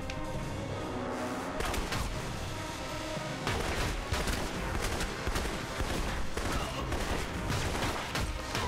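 Continuous loud gunfire from a third-person shooter, Alpha Protocol, with rapid overlapping shots, bursts and booms over a busy game soundtrack, dense and unbroken throughout.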